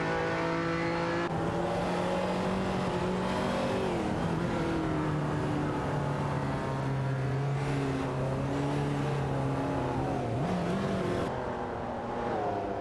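Video game race cars with AI drivers battling for seventh place, several engines droning loud and continuous with rising and falling pitch as they rev and dash away, no talking.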